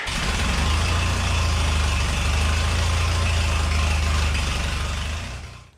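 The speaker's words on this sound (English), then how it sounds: "1950 International Harvester Farmall M tractor" A 1950 International Harvester Farmall M tractor engine runs loud and close, a steady low rumbling idle that holds evenly for several seconds before cutting off abruptly at the end, with no voices.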